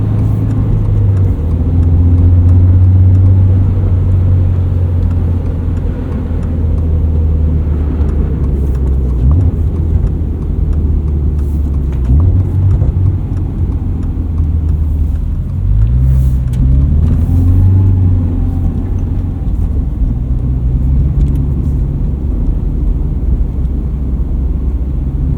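A lifted 2022 Subaru BRZ sports car on Falken Winterpeak winter tyres drives through snow, its engine a steady close drone that swells and eases slightly over the run, with no voices.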